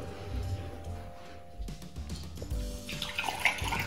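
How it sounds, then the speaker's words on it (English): Water poured through a funnel into glass jars for a homemade water xylophone, a faint gurgling trickle with soft splashes and a rising fill near the end, no talking. "Now we're going to add some water. If you have a funnel, it really helps."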